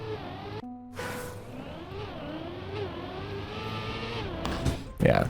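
A car engine in the Trackmania racing game revs with a rising and falling whine ahead of a gear change, steady and continuous throughout.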